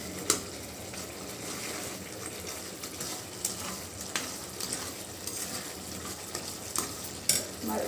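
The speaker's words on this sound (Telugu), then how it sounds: "టమాటాలు మంచిగా ఉడకాల, గ్రేవీ లాగా అయితే బాగుంటుంది." Tomatoes cooking down into a gravy in a pan for gathi curry, a dense, constant close sizzle with occasional light clicks and scrapes of a stirring spoon.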